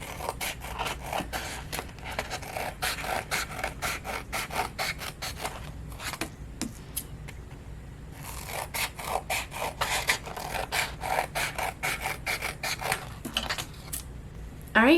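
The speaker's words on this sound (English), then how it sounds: "now what I'm going to do is just cut all of the strips." Scissors cutting craft strips for a Christmas craft, a close run of repeated crisp snipping and paper rustle with a brief pause midway, faint background noise, no clear talk.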